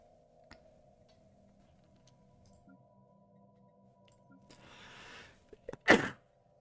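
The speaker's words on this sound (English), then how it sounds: "Sneezing up a storm." A single sharp sneeze bursts out near the end, close and loud, after a stretch of quiet with a faint steady hum and a few soft ticks.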